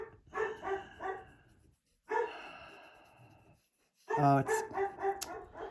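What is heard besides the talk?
pet dog Coop barking at things outside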